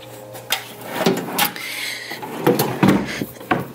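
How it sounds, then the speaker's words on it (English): A hotel room refrigerator built as a drawer slides open and shut with several close wooden thuds and rolling scrapes at an uneven pace. "we thought this was just a drawer. This is the actual refrigerator, which is super cool."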